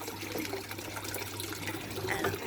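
A steady wash of water running from a garden hose flows continuously at a moderate distance, with a low hum underneath.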